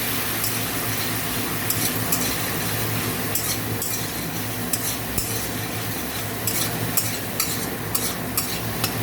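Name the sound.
stirring turmeric into mustard fish curry in a pan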